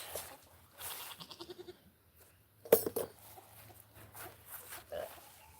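Baby goat on a farm bleating in short wavering cries, several separate calls close to the microphone with quiet gaps between and a person speaking softly.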